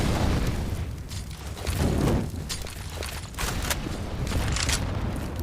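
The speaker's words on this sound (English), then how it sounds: "Just mostly throwing grenades at Banana and not really doing anything" Grenades burst during a Counter-Strike match around the Banana area, heavy rumbling booms and crackling blasts that run almost continuously, loud and dense, with no talk.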